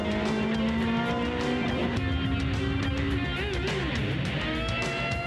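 Race cars brake hard into the Hockenheim hairpin during a Coppa Shell race, engines whining and downshifting with rising and falling pitch, a continuous loud track-side roar with overlapping cars.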